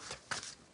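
A deck of tarot cards being shuffled: quiet, soft riffling and flicking of cards in short bursts, close and low in level.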